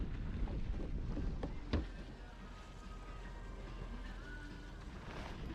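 A sailboat sails at about 6.5 to 7 knots in a 10-11 knot wind with the first whitecaps forming, giving steady wind and water rush with a few knocks and splashes near the start.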